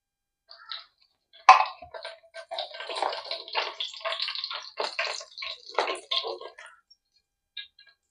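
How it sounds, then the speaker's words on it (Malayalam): About three spoons of coconut oil hit a well-heated pan while cooking chicken shawarma curry, giving off close bursts of crackling, spattering sizzle that start abruptly and fade after several seconds. "അതിലേക്ക് ഒരു 3 സ്പൂണോളം വെളിച്ചെണ്ണ നമുക്ക് ഒഴിച്ച് കൊടുക്കാം."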